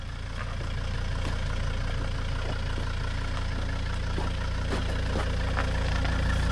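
A Volvo car's engine idles with a low, steady rumble as the car creeps slowly onto a ThinkPad laptop, with faint scattered clicks and crackles over the drone.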